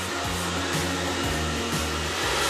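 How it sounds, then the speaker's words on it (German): A hair dryer blows steadily at close range in a former factory hall used as a TV studio, with a constant whooshing airflow and a low motor hum that pulses slightly in regular cycles. "Ich hasse Föhn."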